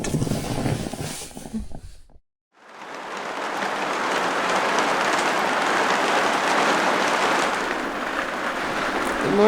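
Heavy rain pours down at night during a backpacking trip in New Zealand, a dense, steady roar that stays loud and constant after a brief break.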